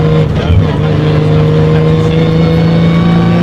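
Inside a Radical RXC coupe on the move, a loud steady engine drone fills the cabin, with a strong low hum and a whining tone that rises slightly, close and constant.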